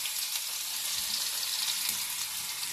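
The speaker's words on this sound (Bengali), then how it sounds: "নেক্সট প্রসেসিং হচ্ছে আদা রসুন বাটা কড়াইতে দিয়ে দেওয়া হলো।" Ginger-garlic paste sizzles steadily in a hot wok, a dense, even crackling hiss that stays at a constant level throughout with no talking.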